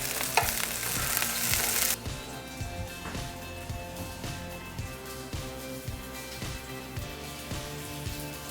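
Potatoes pan-searing in olive oil give a steady, close sizzle and crackle, with a loud burst of frying at the start before settling into a continuous hiss with occasional scraping taps.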